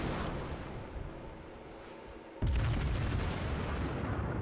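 Battleship guns fire in World of Warships: after a fading rumble, one sudden heavy boom lands and rolls on as a sustained roar to the end.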